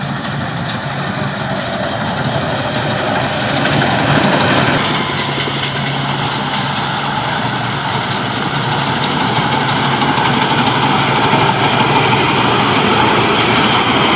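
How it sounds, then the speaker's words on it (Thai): A truck engine idles steadily in a workshop yard, a continuous low rumble with a broad mechanical hum that holds constant and fairly loud throughout, with no talk. "ไปดีแล้วก็ดูเสียงเครื่องครับ ฟังเสียงเครื่องด้วย"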